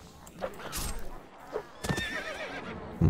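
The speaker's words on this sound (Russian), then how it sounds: "Лошадка." A horse in the Mount and Blade video game neighs in short whinnying bursts, with a few hoof clops and game sound effects between calls, fairly close and loud.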